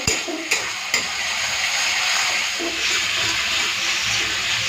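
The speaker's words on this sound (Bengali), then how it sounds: "মশলাটা ভালো মতো কষে নিয়েছি" Spice paste sautéing in a pan for a Bengali duck egg and new potato curry, a steady broad sizzle running throughout with a few sharp clicks of a spatula near the start, close and fairly loud.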